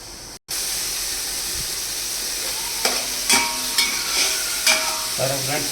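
Mutton biryani masala with tomatoes frying in a pan, a steady close sizzle broken by several scraping stirs of a spoon against the metal.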